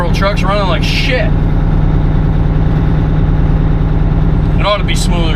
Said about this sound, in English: Truck's running like shit.